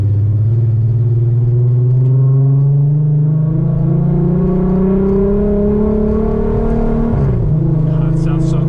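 A fully built Audi RS3 fitted with an R30 VR6 engine drives loud and close from inside the cabin, its steady engine tone climbing as it revs and then dropping sharply near the end.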